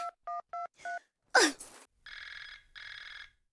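Telephone in a sitcom household: four quick keypad dial tones, a sharp swish, then two long electronic ring bursts, close and clear with no talking.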